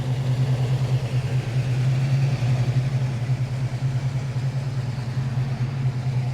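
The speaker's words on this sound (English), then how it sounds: "There she is, just purring away. Real still there in the engine bay. Idling nice and smooth." A 1965 Ford Mustang K-Code V8 idles steadily, a low, even rumble with a smooth, regular pulse that holds unchanged throughout.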